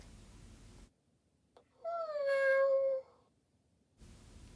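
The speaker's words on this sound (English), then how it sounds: "Marmalade keeps making this mournful meow" A Joy For All orange tabby robotic companion cat toy gives one drawn-out, mournful electronic meow, rising then sliding down, heard close and alone between quiet stretches.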